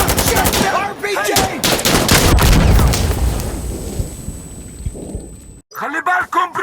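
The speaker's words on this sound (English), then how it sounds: "Open fire! We're working on it!" Heavy gunfire and explosions in the video game Insurgency Sandstorm pound in loud, rapid bursts, with shouting voices mixed in before the fire drops away and talk continues.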